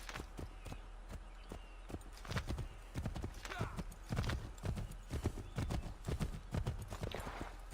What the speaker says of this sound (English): Ooh, it gives me a horse as well.